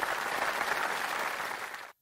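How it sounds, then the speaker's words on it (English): Conference audience at the Latitudes event in San Diego giving a round of applause, a dense steady wash of clapping that holds evenly and then cuts off abruptly. "one more time, round of applause"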